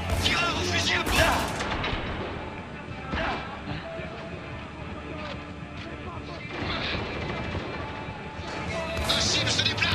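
Gunfire from a Spec Ops: The Line combat scene, loud bursts and crashing shots early and late, with a busier stretch of scattered shots and debris between. A commentator speaks over the action in French.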